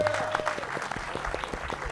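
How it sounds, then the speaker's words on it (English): Applause from a film festival panel audience, a dense crowd clapping at moderate loudness through the moment, with a faint voice briefly audible above it. "Give them a round of applause before we get started."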